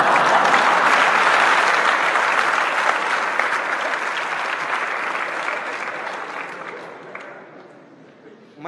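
An audience applauds at a lively talk by a Jain monk on the stock market, steady dense clapping from a crowd that gradually fades out over several seconds.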